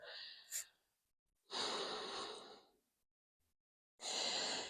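Slow, deliberate breaths during a gentle grounding yoga session for beginners: two long, close airy exhalations and a brief earlier puff, separated by near silence, with no talking.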